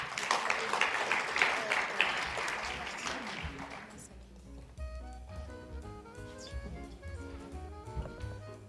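A conference audience applauds for about four seconds with dense clapping that fades out, after which a quieter stretch of room sound and tonal music-like notes continues.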